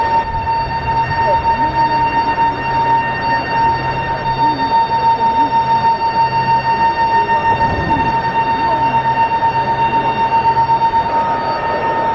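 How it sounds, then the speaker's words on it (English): A steady mechanical whine with constant high tones and a pulsing low hum runs without pause, loud and close, like a pump working continuously. "That's the hydraulic pump which is working."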